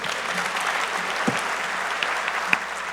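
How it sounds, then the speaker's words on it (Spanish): At a panel event, an audience gives a continuous, even round of applause for the panelists, a soft wash of claps heard from a moderate distance with a few sharper hits. "un gran aplauso"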